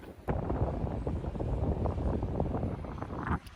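Strong wind buffets the microphone at the top of a mountain in Saudi Arabia, a loud, continuous rumbling roar with gusty fluctuations that starts abruptly and drops off near the end.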